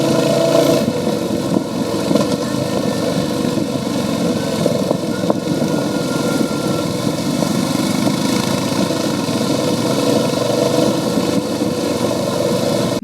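A motorcycle rides along a forest road in Uttarakhand, its engine a continuous, close, fairly loud drone with steady road and wind noise and no pauses.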